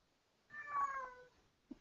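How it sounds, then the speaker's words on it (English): A house cat lets out a single drawn-out, plaintive meow at close range in a quiet room, followed by a brief faint noise. "You hear my cat?"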